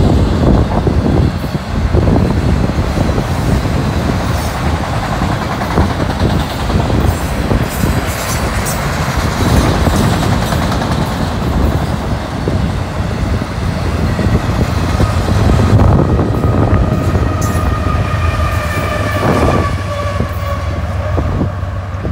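Loud, steady rumble and clatter of a fast auto racks freight train rolling past at close range, with a locomotive shoving hard on the rear in Trenton, Ohio; continuous wheel noise with squealing tones near the end.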